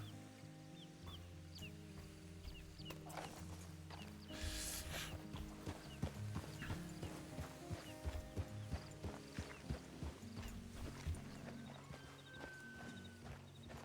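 A trained horse dancing in Red Dead Redemption 2, hooves stomping in a quick irregular clip-clop pattern over layered game music, fairly close and clear.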